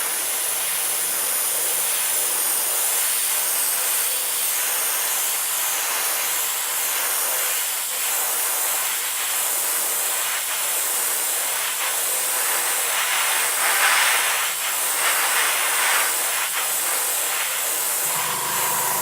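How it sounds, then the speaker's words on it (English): Candy colour paint is sprayed in layers from a spray gun, giving a long, continuous, loud hiss with slight surges, close by and with no voices. "And so as you spray, the more layers you put on, the deeper the colour you build."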